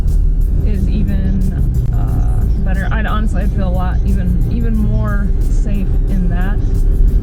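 A Toyota Tacoma 4x4 drives on a snowy road at 26 degrees with the snow partly melted by traffic. Its steady low engine and road rumble runs throughout, under a person talking.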